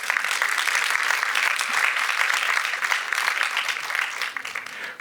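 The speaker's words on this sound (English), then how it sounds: "Please give my experts a big round of applause." Audience applause at a programmatic advertising panel event, steady and dense from start to finish, tapering slightly near the end.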